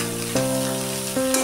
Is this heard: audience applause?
no